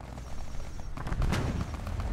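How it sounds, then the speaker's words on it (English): Carpet bombing in the Fallout: The Frontier mod: a dense cluster of booming explosions and bursts of gunfire erupts midway and rolls on, loud and rumbling. "I'm gonna try carpet bombing these people instead of fighting them like normal."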